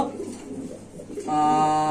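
Pigeons at a pigeon sale give soft, throaty coos beneath a murmur of market voices, and a steady near tone takes over the second half.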